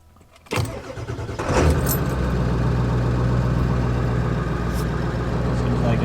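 A Ford 7.3 Powerstroke diesel cranks briefly, fires up and settles into a loud, steady high idle that holds close by with a constant low rumble.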